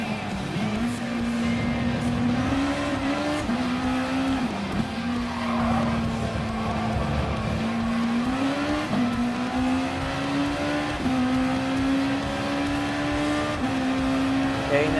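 Race cars in Gran Turismo Sport, a Honda NSX among Group 3 GT cars, roar steadily at high revs, the engine note rising and dipping through gear changes with brief tire squeals, loud and continuous throughout.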